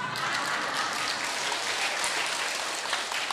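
Temple audience applauding during a Buddhist Dharma talk: a steady, dense wash of many hands clapping, fairly loud and even throughout, with no pause or talk.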